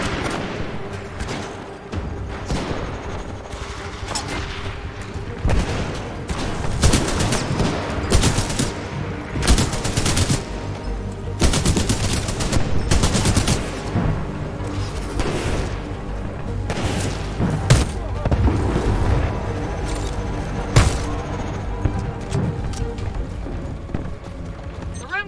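Gunfire in the video game Titanfall 2, dense bursts of rapid shots and heavy booms crackling continuously through a firefight, with a player talking over the action.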